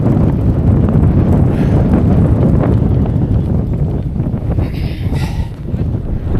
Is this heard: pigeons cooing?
no